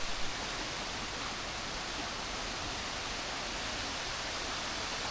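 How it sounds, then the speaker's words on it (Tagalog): Flowing spring water feeding a pool at Balanan Lake, a steady dense rush like a small waterfall, constant and fairly near, with no voices. "Flowing water na siya, fresh water na. Spring water."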